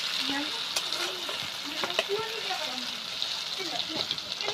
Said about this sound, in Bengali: ওখানে আমরা বিরিয়ানির জন্য বেরেস্তাটা ভেজে নিচ্ছি।